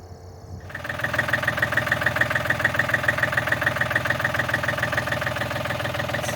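Small loader tractor engine on a farm during field prep, starting up and settling into a close, rhythmic diesel idle with a steady knocking pulse.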